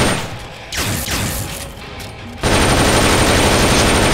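Gunfire rattles during a boss fight against a large machine in Metal Gear Solid Peace Walker, with scattered shots and sweeping mechanical tones giving way to loud, continuous rapid fire.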